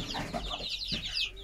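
Chickens clucking in a backyard coop, several birds close by with short overlapping calls over steady low background noise; no one speaks.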